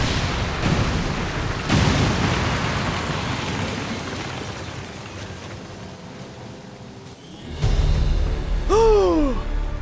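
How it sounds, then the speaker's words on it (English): Explosive charges detonate in the video game XCOM 2, with heavy broadband blasts rumbling loudly at the start and again near the end over a steady noisy background. "Squad is clear. Detonating charges."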